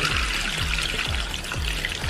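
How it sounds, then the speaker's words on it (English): Water is poured off washed beans during gbegiri soup preparation, a continuous splashing, trickling pour heard close and alone for about two seconds. "I'm going to pour the water away immediately so that my beans will not go with the water"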